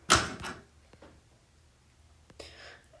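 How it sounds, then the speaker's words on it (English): A room door in a house with a Hampton Bay Farmington ceiling fan swings shut with one close, loud thump, followed by faint softer knocks and a brief latch rattle near the end. "Let me close that door."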